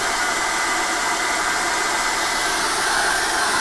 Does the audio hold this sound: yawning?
no